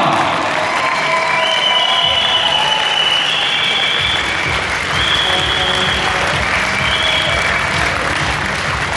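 Audience applause at a send-off for a cyclist ending his racing career, steady and dense clapping from a large crowd with scattered cheers, sustained close and loud throughout.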